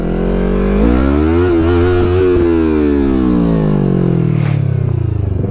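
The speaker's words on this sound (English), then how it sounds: "we know we'll do a first gear wheelie now" A Yamaha MT-03 motorcycle engine revs hard in first gear for a wheelie, its loud, buzzing note climbing and then sliding back down while held close to the microphone.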